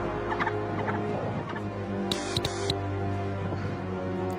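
Turkeys gobbling nearby in a rapid, rattling burst over a steady background hum, with a few other soft bird calls around it.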